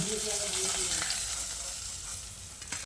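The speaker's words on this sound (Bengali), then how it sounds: "বাকি মাছটাও আমি ওই একইভাবে উল্টে পাল্টে ভেজে নেব।" Rohu fish pieces fry in hot oil in a kadai, giving a dense, steady sizzle and crackle throughout, with a few brief clinks near the end.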